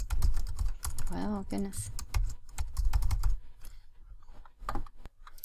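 Rapid clicks of a computer keyboard come in close, uneven bursts of keystrokes, with a person briefly talking partway through.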